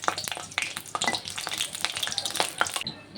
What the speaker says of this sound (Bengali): কয়েকটি শুকনো লঙ্কা ভেজে নেব।